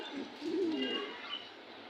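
A pigeon at a pigeon market in Bangladesh gives a soft, low, rolling coo near at hand over a quiet background hum.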